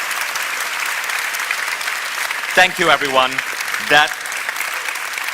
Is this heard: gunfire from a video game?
no